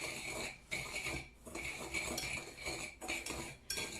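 Butter and sugar being mixed in a bowl: rhythmic scraping and clinking of a utensil against the bowl in repeated strokes, close and fairly quiet.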